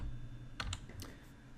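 Quiet computer keyboard typing in a home office setting: a handful of soft, quick key clicks in a short burst over a low background hum.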